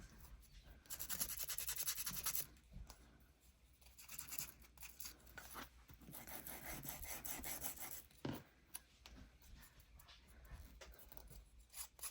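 Close, faint rasping and rubbing of sanding paper edges in short irregular strokes, scratchy and dry, with brief pauses between passes.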